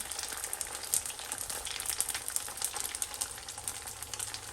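Homemade samosas frying in hot oil, a steady close sizzle and crackle with bright popping bubbles running evenly throughout, no voices over it.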